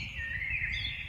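Birds singing in a New Jersey park, a few clear high chirps and warbling calls close by over a low rumble of background noise, brief and fairly soft.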